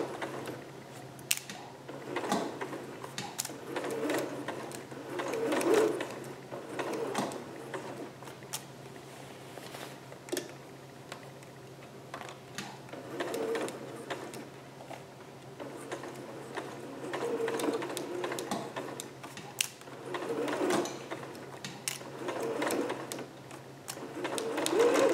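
A sewing machine stitches a skirt from the Vogue 8280 pattern in short, faint runs, quiet whirring bursts separated by pauses in a calm room.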